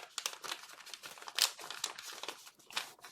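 Paper is pressed and creased while folding an origami coelacanth, giving close, soft crinkling and rustling in quick irregular bursts.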